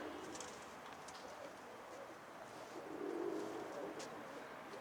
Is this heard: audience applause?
no